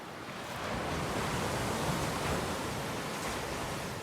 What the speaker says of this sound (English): So this beach, this is a lovely little beach.